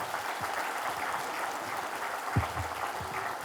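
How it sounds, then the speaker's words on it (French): Audience at a French municipal election public meeting applauds steadily, a soft, even patter of many hands heard from a distance, with no voices over it. "Merci Frédéric, on peut l'applaudir."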